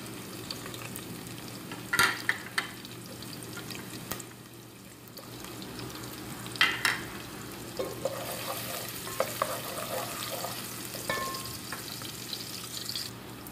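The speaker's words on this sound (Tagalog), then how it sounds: "Haluhaluin muna." Onion sizzling in a pan while being stirred, a steady frying crackle with intermittent spoon scrapes and clinks, close up and without talk.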